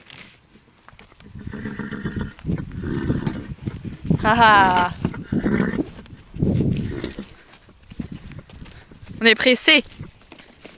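Horses shuffle and snort while nosing at a cardboard parcel in a stable, with rustling, thumps and two bright whinnies, as someone speaks French over and between the animal sounds.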